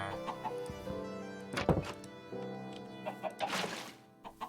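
Chickens cluck faintly in a Minecraft game world near water, soft scattered clucks mixed with thunking block sounds and light clatter, quiet and close with no talk.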